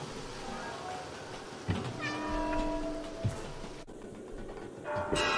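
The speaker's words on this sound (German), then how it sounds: "Vorsicht, Katze." Cat meows in the video game Stray, several clear tonal calls with harmonic sweeps spread across the stretch, close and prominent over a steady ambient game background with a couple of soft thuds.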